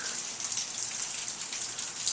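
Steady rain falls outside, a close, continuous patter of drops on surfaces with no voices.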